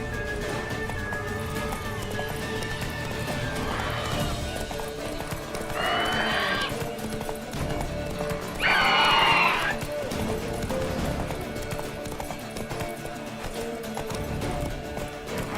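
A horse gallops with rhythmic clip-clop hoofbeats in The Witcher 3, steady and close, interrupted by a couple of loud whinnies and snorts partway through amid game ambience.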